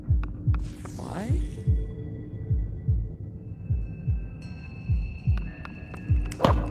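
Heartbeat in a VR horror game: a steady, loud low double-thump repeating about twice a second through the whole stretch, with other faint game tones and a brief swooping noise over it.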